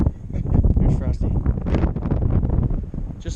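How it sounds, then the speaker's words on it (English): Strong wind buffets the microphone at the top of a fire tower on the Appalachian Trail, a continuous loud rumbling gust that roars throughout while a person talks over it. "Very, very windy."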